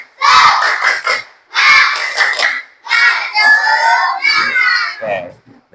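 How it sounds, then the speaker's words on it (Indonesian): A class of children shouts a rhythmic spirit chant in unison, with loud, bright choral phrases split by short pauses and a clap-chant rhythm. "Kita tepuk semangat bareng-bareng."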